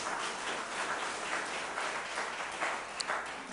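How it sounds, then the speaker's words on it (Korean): An audience at a lecture bursts into a dense, even wash of applause, steady and moderately loud from start to finish, with a single sharper clap near the end. "자, 박수."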